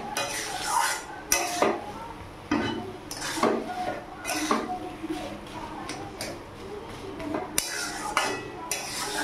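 A utensil stirring and mashing fully boiled potatoes in a pan, giving scraping and knocking strokes with occasional clinks, close by, while a voice talks at times.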